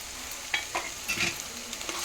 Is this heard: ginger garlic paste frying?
yes